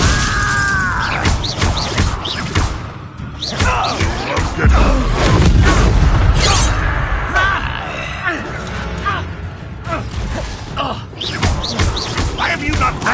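Incendio fire spell cast in Hogwarts Legacy: loud, dense bursts of whooshing flame with heavy thuds and crashing impacts, layered over busy game effects throughout.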